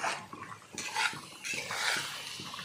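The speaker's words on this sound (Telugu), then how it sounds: "యాడ్ చేసుకుని మన ముక్కల్లో కలిసేలాగా నేను అటు ఇటు తిప్పుకుంటున్నాను కర్రీని" A spoon scrapes and stirs pumpkin curry with added cumin and spice powder in a pan, a close, repeated scraping sound with a soft sizzle underneath.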